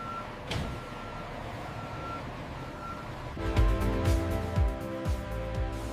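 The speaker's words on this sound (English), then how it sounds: "Heavy trucks deliver fish directly to the processing plant." Heavy truck delivering fish to a processing plant, a steady diesel rumble with a repeating high reversing beep, growing louder with rhythmic knocks in the second half.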